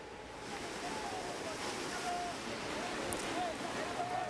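A flooded river in Mencirim, Binjai, North Sumatra, sweeps a riverside house into its fast current. The rushing water makes a constant, loud, broadband roar with no pauses, and faint indistinct voices may sit beneath it.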